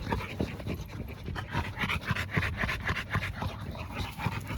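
A dog pants close to the microphone, rapid rhythmic breaths continuing for several seconds, with faint whimpers and light background noise.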